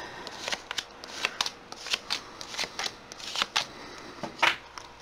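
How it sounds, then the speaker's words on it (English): Cards are shuffled in quick, papery riffles and bursts, close and fairly quiet, repeating in an uneven rhythm with no talking. "I'm still shuffling."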